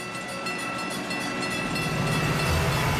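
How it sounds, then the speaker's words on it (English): A passenger train rolls along the track with a continuous rumbling roar that swells slightly louder toward the end, with no voices. "Emergency fuel gets passenger trains rolling."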